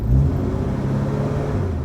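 A Studebaker truck engine with a faulty carburetor running rich rumbles loudly and steadily at close range, a low idle-like drone with a slight rise at the start.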